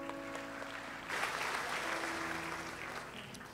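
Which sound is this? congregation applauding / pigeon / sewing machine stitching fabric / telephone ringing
congregation applauding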